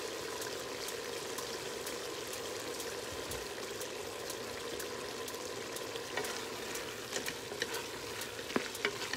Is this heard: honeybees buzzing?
no